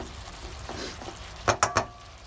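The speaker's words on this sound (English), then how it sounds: "And then just stir until well combined." An eggplant and tofu stir-fry with sweet and holy basil is stirred in a pan, giving a soft low sizzle followed by three quick loud scraping knocks of the utensil close by, with no voices.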